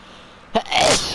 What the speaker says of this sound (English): I hate sneezing when you're playing the PlayStation